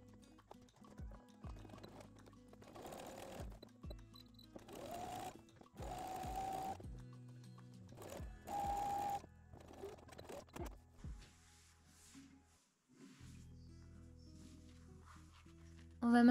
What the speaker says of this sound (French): réaliser une piqûre tout le long de l'ouverture. Cette fois-ci, pique au point zigzag.